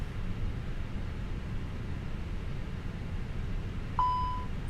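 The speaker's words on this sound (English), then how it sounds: "Probably gonna get a smoke detector fault here in just a second." Inside an airliner cockpit during preflight checks, a single short electronic beep sounds as a smoke detector fault warning over steady low cabin and equipment hum.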